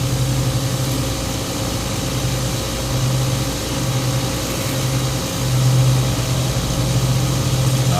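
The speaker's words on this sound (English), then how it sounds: "This is the compressor" A condenser unit's compressor running with a steady, close mechanical hum and a faint low pulsing throb, heard alone throughout.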